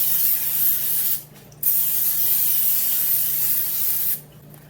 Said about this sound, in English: I'm going to start out by spraying it with this non-stick cooking spray.